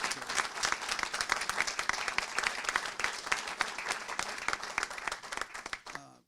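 A crowd at the signing ceremony for the I-285 Top End agreement in Georgia applauds steadily and vigorously for several seconds, the sharp claps close and continuous before tapering off at the end.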